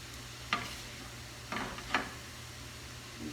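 Onions being stirred among greens in a frying pan, with a steady low sizzle and a few sharp utensil scrapes against the pan.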